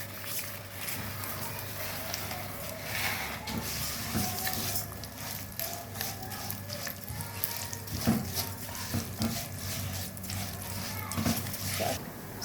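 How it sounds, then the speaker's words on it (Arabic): Rice with vermicelli frying in oil, a continuous moderate sizzle with occasional stirring scrapes, a voice speaking over it. "هعمل الرز اهو بالشعريه على الزيت"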